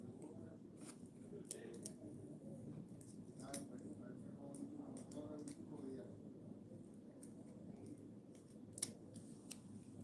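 Quiet, sharp snips of scissors cutting tape, several scattered crisp clicks over low background noise, with someone talking softly in between.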